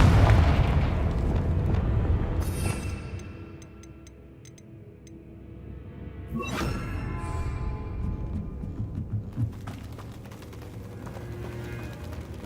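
Confringo fire spell explosions in Hogwarts Legacy: loud booming blasts with rumbling low-end bursts and crackling debris, one heavy impact early and another around the middle, layered over continuous game sound with no talk.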